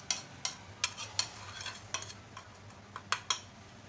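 Whole spices and a bay leaf sizzle in a hot kadhai over an open flame while a spoon stirs them, giving a steady frying hiss broken by sharp metallic scrapes and clinks at an uneven rhythm, with no talking.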